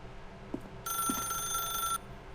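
An electronic telephone ringing in the video game The Stanley Parable: Ultra Deluxe, one loud trilling ring burst of about a second, preceded by two soft knocks, with no talk.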